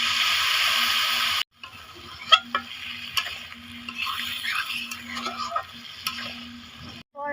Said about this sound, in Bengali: ভালোভাবে কষিয়ে একটুখানি জল দিব